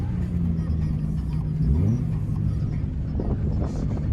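Lifted Ford Econoline van sliding on a slippery road, with a loud steady engine drone and rumble, wind buffeting and a low whirring tire or drivetrain sweep midway.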